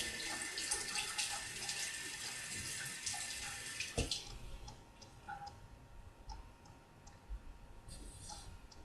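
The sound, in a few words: tap water running to rinse off shaving foam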